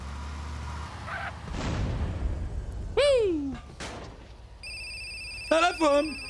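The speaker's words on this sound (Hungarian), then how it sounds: "Telefon!" A phone rings in GTA San Andreas Definitive Edition, giving two distinct electronic warbling trills near the three- and five-and-a-half-second marks, close and clear over game background noise, with speech heard earlier.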